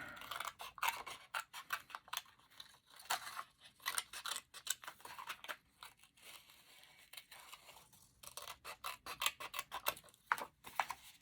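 Scissors snipping through printed paper pieces for a handmade flip book kit, a steady run of close, crisp cuts and light paper rustles with short pauses between strokes.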